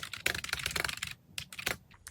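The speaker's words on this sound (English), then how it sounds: "I can't really type because I've got really long nails, but I'm going to try." Fingers tap on an external keyboard connected to a device, long nails clicking the keys in quick irregular bursts with a brief pause midway, close and fairly loud.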